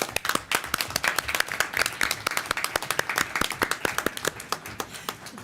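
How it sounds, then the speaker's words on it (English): A round of applause at a school board of education meeting, a modest group clapping in a loose, uneven rhythm of distinct sharp claps that carries on for several seconds, fairly near and unaccompanied by speech. "Please join me in a round of applause for Dylan Kane."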